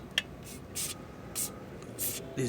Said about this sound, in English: I have my WD-40 right here, and I'm just gonna spray down these